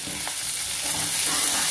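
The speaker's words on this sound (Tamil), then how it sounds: "ஃபர்ஸ்ட் கொஞ்சம் ஹார்டா இருக்கிற காயை வதக்கிக்கணும்" Carrots and beans sauté in a pan for vegetable fried rice, a steady close hiss of frying and sizzling with light stirring and no voices.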